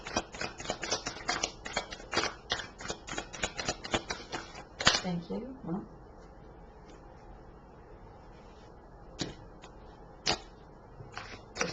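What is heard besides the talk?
shuffling tarot cards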